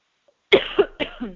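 A short burst of three close coughs in quick succession, loud against an otherwise silent background.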